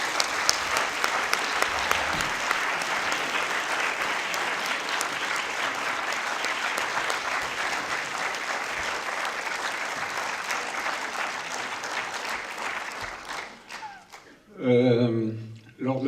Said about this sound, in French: Voilà, Yves Yersin, sous vos applaudissements.